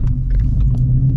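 Shelby GT350 Mustang running on E85, its engine giving a steady, deep low rumble with a loud, continuous drone while cruising and no voices over it.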